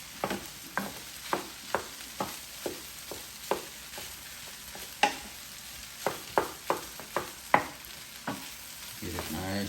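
Rice frying in a Power XL cooker with chopped Spam, quiet sizzle under regular clacking strokes of a spoon stirring and scraping the pot.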